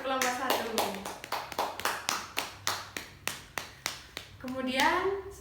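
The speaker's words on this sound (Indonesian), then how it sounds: "Beri tepuk tangan untuk kelompok 1." A classroom group claps for a presenting group. The applause is a steady run of sharp, evenly spaced hand claps, close and fairly loud, with a voice speaking just before and just after.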